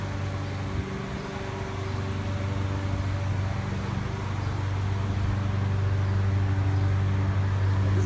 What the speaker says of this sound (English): Somebody's coming up with like a lawnmower or a lawn blower.